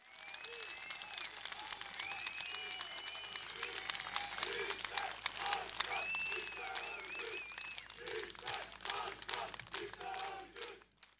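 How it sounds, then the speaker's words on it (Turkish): A crowd at a CHP political rally in Tire, İzmir, breaks into sustained applause and cheering, with shouted chants rising over the clapping and a voice calling out at moments. "Bir kuvvetli alkış duyayım"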